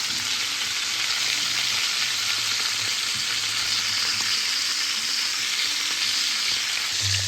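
Beef chuck searing over medium-high heat in a pan for Guinness stew, a dense, continuous close sizzle holding steady throughout with no voices.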